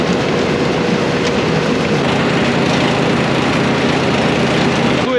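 A silage bagger and tractor run steadily through a silage harvest, packing chopped crop into the bag, giving a loud, continuous, dense mechanical rumble and churn with no pauses and no voices.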